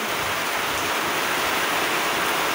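Heavy rain from a typhoon pours outside a doorway, a dense, continuous hiss of falling water that stays loud and even throughout with no voices.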